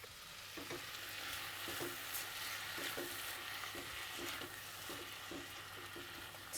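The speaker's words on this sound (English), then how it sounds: "Continue to stir." Chopped tomatoes and softened onions sizzle in a hot frying pan while being stirred, with a constant bright frying hiss and soft, regular scraping strokes of the spoon every half second or so; no talking.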